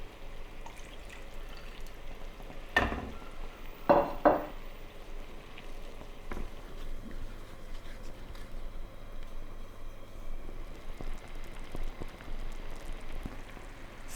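A spoon stirring steak resting juices and double cream into a peppercorn sauce in a hot pan, a soft continuous sizzle and bubbling with a few sharp clinks of utensil on pan near the start.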